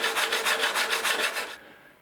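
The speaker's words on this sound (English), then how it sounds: "then do the last bit, just a bit of sanding" Hand sanding on the repaired wing of a GP Trainer 60 model aircraft: about seven rhythmic back-and-forth rasping strokes, close and fairly loud, trailing off into quiet.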